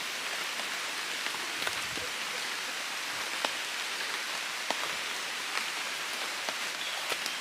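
Steady rain falls through a forest during mushroom foraging, a continuous soft hiss of drops on leaves and ground with scattered sharper pattering taps, close and even throughout with no talking.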